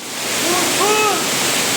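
Water pours steadily down the Küp waterfall in Aladağ, Adana, a dense continuous rush, close and loud, with a brief faint voice or whistle-like tone rising over it midway.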